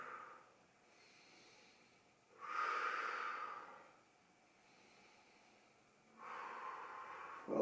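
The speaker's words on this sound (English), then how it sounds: "So you exhale." Slow, audible breaths during a yoga spinal stretch: two long, airy exhales rise and fall several seconds apart, close to the microphone and fairly soft, with quiet gaps in between.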